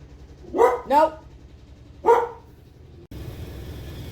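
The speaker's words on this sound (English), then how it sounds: "dog barking. She's a bit of a barker." Pet dog barking indoors at home, two quick close barks followed by a third after a pause, fairly loud against a quiet room.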